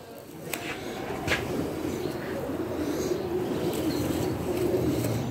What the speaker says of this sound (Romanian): Porumbel din prima serie.